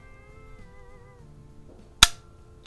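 A single sharp report from a Remington Fieldmaster 572 pump-action .22 LR rifle fired at a 25-yard target. One loud crack rises out of a quiet background with a short ringing decay.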